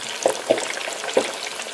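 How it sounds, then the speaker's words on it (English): Steady broadband sizzle of chicken legs or thighs frying in a pan, with a few sharp pops and spatters at irregular moments, close by. "So I start frying the meat now, the chicken leg or chicken thigh"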